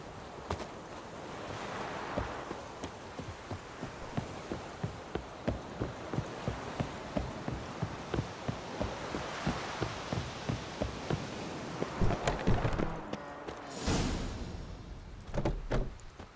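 Hooves of Roach, the horse in The Witcher 3 video game, clip-clop in a steady walking rhythm at close range for most of the stretch. A few louder thumps and a short rustle come near the end.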